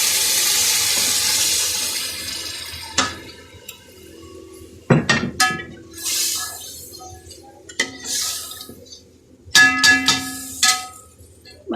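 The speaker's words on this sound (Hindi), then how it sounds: "ये गोश्त को भून के साथ ही हमने इसमें यखनी ऐड करनी है।" Yakhni meat broth is poured into beef frying in a pot for pulao. A loud hiss and sizzle comes first, followed by bursts of splashing liquid and a few sharp clanks of a utensil against the pot.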